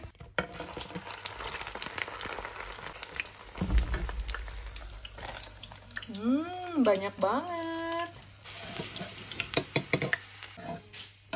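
Breaded chicken nuggets deep frying in hot oil, a continuous crackling sizzle with stirring clatter, heard under a woman's speech.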